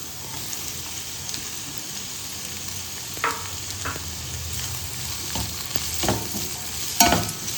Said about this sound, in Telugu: అది కొంచెం ఫ్రై అయిన తర్వాత మిగతా వెజిటబుల్ అన్నీ వేసుకొని వేగనివ్వాలి